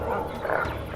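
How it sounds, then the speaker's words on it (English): Growling dog in The Witcher 2, a deep, rough animal sound running through the whole second, loud and close, with a swelling roar in the middle. "Can you hear it? That's Grindley's dog."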